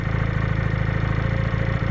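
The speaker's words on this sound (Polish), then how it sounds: "pokażę Wam teraz przyspieszenie tego motocykla" A Junak M11 Cafe motorcycle engine runs close by with a steady, throbbing mid-pitched drone, holding nearly constant over a brief stretch with no voices.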